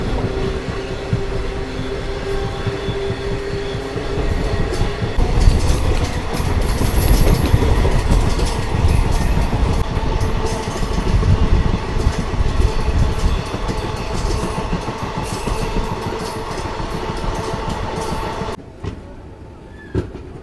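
A Yesvantpur–Sindhanur Express train rolls along the rails in a steady, loud rumble with rhythmic clickety-clack from the wheels and brief higher squeals, continuous for most of the stretch before dropping away sharply near the end.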